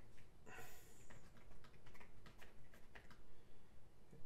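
Quiet, irregular clicks of fingers tapping on a tablet keyboard, coming in short uneven bursts with small gaps, close by and soft.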